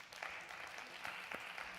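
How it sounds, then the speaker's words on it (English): An audience claps steadily for a person who has just mentioned losing 32 pounds, the applause sounding fairly faint and even throughout with a few sharper claps standing out, and no talking over it. "I didn't need the applause, but I appreciate it."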